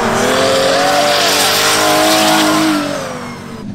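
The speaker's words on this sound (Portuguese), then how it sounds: "Tá descendo um carro lá, ó." A race car comes down the track with its engine revving hard in a loud, rising howl, then fades slightly as it passes.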